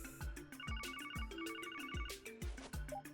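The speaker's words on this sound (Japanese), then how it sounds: "携帯用の通信端末、そんなものまで実用化されているのか" A portable communicator rings in the Trails from Zero video game, giving a repeating electronic ringtone pattern with rhythmic chimes over a steady game music backdrop, moderately loud and with no talking.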